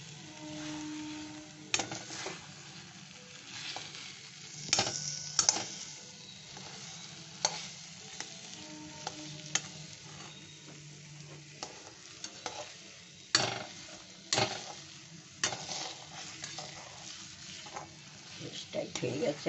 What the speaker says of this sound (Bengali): আর একটু নাড়াচাড়া করে নামিয়ে ঠান্ডা করে নেব।